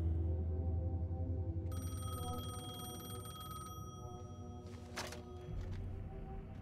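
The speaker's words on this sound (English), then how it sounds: "All right, let's pick up the phone." A telephone rings in Alan Wake 2, a steady electronic tone sounding over a low ambient drone, followed by a brief clunk as it stops.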